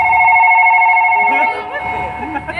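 After a number is dialled in a comedy skit, a loud steady electronic telephone ring sounds for about a second and a half, then fades as voices begin talking.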